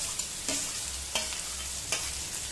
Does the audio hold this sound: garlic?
yes